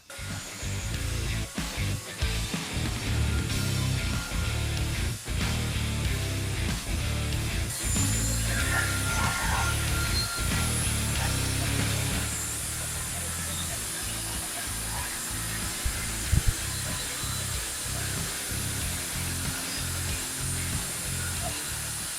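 Circular saw cutting in a workshop with a dust extractor hose attached: a loud, continuous whining drone with repeated sharp bursts as the blade bites, then a steadier hiss from the extractor running on.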